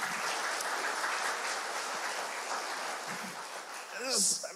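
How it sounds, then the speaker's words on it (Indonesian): Louder, sustained applause from a congregation at a Sunday church service, a dense and steady clatter of many hands that fades slightly before a voice speaks over its tail. "Tolong saya dengan tepuk tangan yang lebih baik."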